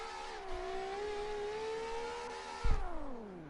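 Nissan GT-R engine in the CarX Drift Racing video game, holding a high, steady whine that dips slightly and then drops in pitch near the end. A brief thump comes at the start and another near the end.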